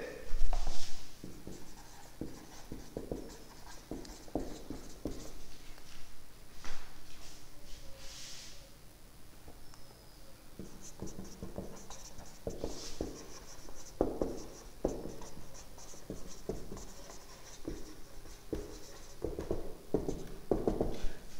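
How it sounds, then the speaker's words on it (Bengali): Marker or chalk writing parts of a sentence on a board during an English poetry lesson, with scattered scratchy strokes and taps in a room, faint and intermittent. "দেখো আমি দু একটা অংশ লিখছি সেন্টেন্সের।"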